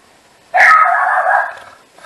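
A small dog barks at a mail carrier passing outside: one loud, drawn-out yapping bark that lasts about a second, with no talking around it.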